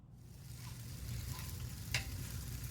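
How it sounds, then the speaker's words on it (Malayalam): Cooked basmati rice being stirred into a spiced masala in a hot pan for street-style gobi rice, heard as a steady sizzle and frying hiss with one sharp scrape near the end and no voices. "വേവിച്ച് വെച്ചിരിക്കുന്ന ബാസ്മതി റൈസ് ഇതിലേക്ക് ആഡ് ചെയ്ത് കൊടുത്ത് നന്നായി യോജിപ്പിക്കുക"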